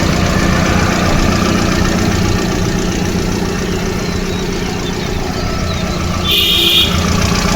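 A used Hyundai i10's engine idles with a steady, even rumble that holds throughout, close and loud, with a short high-pitched tone near the end.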